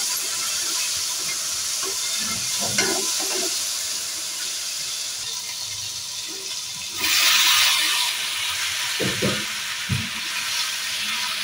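Macaroni pasta gets stirred into masala frying in oil, giving a steady loud sizzle and hiss with occasional scraping thuds of the spoon, and a brief louder burst of steam partway through.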